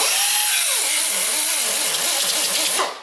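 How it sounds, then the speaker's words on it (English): An Astro 204 die grinder whines steadily at high speed, cleaning corrosion off an aluminum steering knuckle during a GM front wheel bearing and hub job, loud and close, then cuts off abruptly near the end. "We're just gonna use a little Cookie Wheeler Astro 204, sweet little die grinder."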